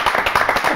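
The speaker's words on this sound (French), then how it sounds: "Alors on applaudit Florent Maté." A brief burst of close, rapid clapping from the audience at a stage show, many hands striking together in quick succession for under a second.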